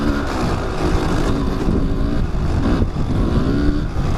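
An enduro dirt bike runs steadily on a trail at Gorman OHV Park, its engine droning loud and close with slight rises and dips in pitch, with no voices.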